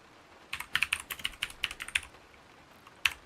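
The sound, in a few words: typing on a loud computer keyboard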